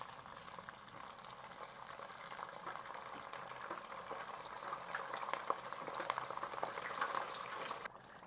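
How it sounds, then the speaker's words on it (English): Dungeness crab pieces deep-frying in hot oil, a steady dense bubbling and crackling that holds evenly for several seconds before cutting off near the end. "We're gonna lay out our crab into strainer, about 4 pieces at a time, and slowly dip in the hot oil"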